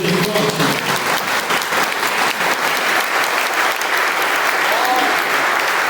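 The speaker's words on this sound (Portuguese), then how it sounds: "Vamos aplaudir o nosso Deus." A church congregation applauds, a thick, sustained clatter of many hands with scattered individual claps standing out, continuing strongly to the end.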